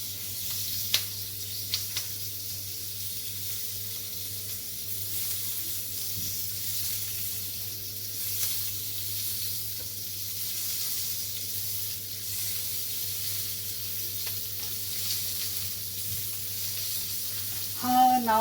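Washed cabbage leaves sizzle on a hot sizzler plate over a lowered flame. A steady, fairly quiet frying hiss holds throughout, with a low hum beneath and a few faint clicks, then a brief louder burst at the very end.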